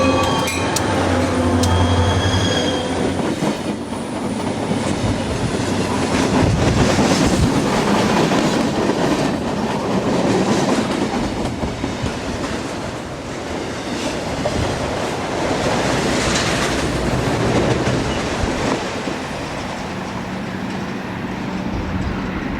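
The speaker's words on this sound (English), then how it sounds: "we arrive just in time to catch an eastbound UP manifest" An eastbound Union Pacific manifest freight train, led by a repainted SP tunnel motor, rolls past Pleasanton station with a loud, sustained rumble and clattering wheels that swell and ease over some twenty seconds.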